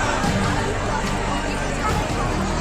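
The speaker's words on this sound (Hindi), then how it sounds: "उसका गांव प्रखंड के दहीभत्ता वैक्सीनेशन सेंटर की यह तस्वीर आपके सामने है, जहां भारी भीड़ उमड़ी है।" A large, dense crowd packs a village vaccination centre at Dahibhatta: a loud, steady wash of overlapping voices and babble with no pauses, heard up close throughout.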